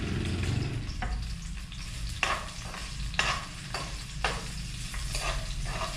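Kikiam and other pancit canton ingredients fry in oil, a continuous bright sizzle broken by several distinct scraping stirs of a utensil against the pan, with no talking.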